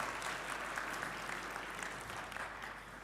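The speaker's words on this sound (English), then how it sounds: "a big applause for you again" Conference audience at an offshore outsourcing event applauds a speaker, a soft, distant patter of clapping heard faintly through a large hall, steady throughout with no talking.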